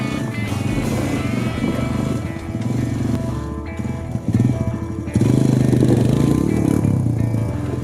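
A 2017 Honda TRX250X sport ATV with a 250-class engine runs with a steady, loud buzzing drone throughout, the pitch shifting slightly as the revs change.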